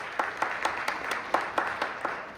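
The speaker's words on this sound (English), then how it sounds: "you're allowed to clap every time" Sparse, scattered clapping from a theatre gala audience, a handful of distinct claps spread over a couple of seconds at moderate distance, faint and irregular rather than full applause.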